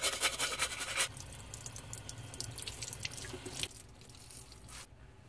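Cola being scrubbed and dripped over a dusty PC heat sink gives wet, trickling, rubbing noises, loudest for the first second and then continuing more softly before fading near the end.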